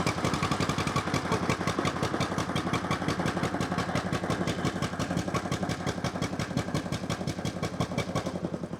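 A 1950 John Deere Model M tractor engine idles with an even, rapid thumping beat and a mechanical clatter, steady and alone at moderate distance.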